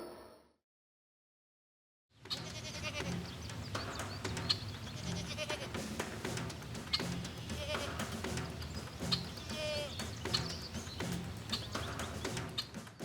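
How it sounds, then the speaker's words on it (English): Goats bleating repeatedly over a dense, busy background, after a brief silent gap at the start; the bleats are moderately loud and overlap with other noise throughout. "The video showed two local goats climbing up a straight tree"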